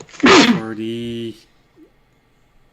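A single loud, sharp sneeze bursts out up close and trails off into a voiced tail, then quiet.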